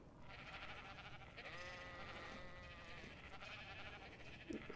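Sheep bleat on a dinosaur farm in the video game Ark: The Island, a long wavering call that swells and fades over a constant low hum of game ambience.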